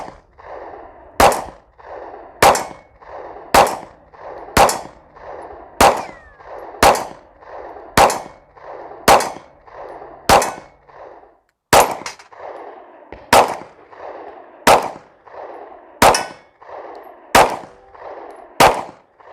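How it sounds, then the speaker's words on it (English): Pistol shots from a Sig P365 and a Glock 43 at a shooting range: about sixteen sharp, loud cracks at a steady pace of roughly one per second, each followed by a ringing echo decay. "Let's put some rounds down range"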